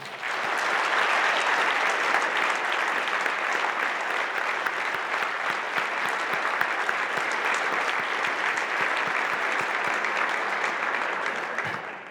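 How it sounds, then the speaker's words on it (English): An audience applauds steadily for board members and staff associates at a professional gathering, a dense, sustained round of clapping that holds at even loudness for about twelve seconds before tapering slightly at the end. "please give them a round of applause"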